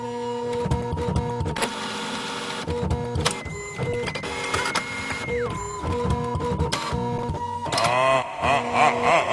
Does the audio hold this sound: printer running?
yes